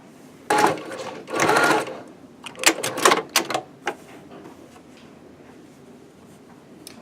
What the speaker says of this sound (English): now I'm going to sew row 3 to row 2.